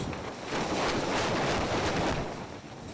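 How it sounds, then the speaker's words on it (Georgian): Strong wind roars steadily during a storm high on a mountain at 6100 m, with cold gusts buffeting the microphone in a continuous broadband rush that swells slightly mid-clip. "ძალიან ცუდი ამინდია ციკლონია შემოსვა. ცივა, ქარია და ყინავს."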